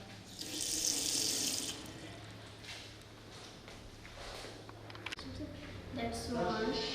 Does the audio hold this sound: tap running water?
yes